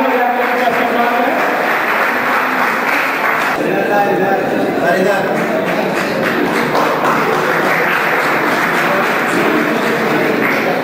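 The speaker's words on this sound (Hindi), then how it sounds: "आप लोग ताली बजाकर उनका सम्मान करें।" An audience at a silver jubilee event applauds as honoured guests come onto the stage, with loud, sustained clapping blended with crowd murmur and chatter throughout.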